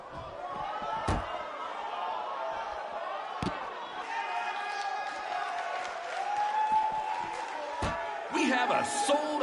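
An arena crowd roars in the wrestling game WWE 2K19, a steady wash of cheering punctuated by loud slams, with a commentator talking over it.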